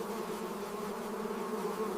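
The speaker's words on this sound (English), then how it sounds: "Billions of mosquitoes." A dense swarm of mosquitoes in the Siberian summer gives off a continuous, steady high whine. The buzzing is faint but unbroken and has no voices over it.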